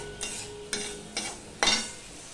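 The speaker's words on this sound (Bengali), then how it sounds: "বেগুনটা দিয়ে আমি একটুখানি মিশিয়ে নিচ্ছি আলতো করে" Small fish sour curry with eggplant being gently stirred in a pan: four soft scraping strokes with a low sizzle underneath, evenly spaced, the last one loudest, close and alone.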